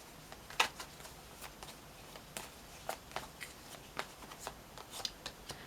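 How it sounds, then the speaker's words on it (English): Tarot cards being shuffled during a monthly reading, a steady run of soft riffling slaps and crisp papery flicks close by, repeating roughly every half second with no voices over them. "I always like to put good intention, good energy into the decks as we shuffle them."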